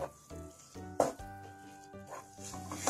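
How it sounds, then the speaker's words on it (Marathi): Thickening coconut sweet made with caramelized sugar being stirred with a spoon in a pan, with soft sizzling and scraping close up over faint background tones. "मिठाई आपण घट्ट होतपर्यंत यामध्ये चम्मच फिरवत राहू।"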